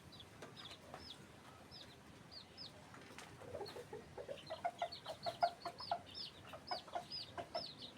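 Chickens cluck repeatedly outdoors, short choppy calls growing busier and louder toward the end, several birds close by.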